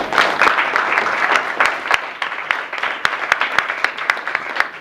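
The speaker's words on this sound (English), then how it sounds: "let's give a round of applause for her" Enthusiastic applause from a crowd, dense clapping that stays steady for several seconds before thinning into scattered individual claps.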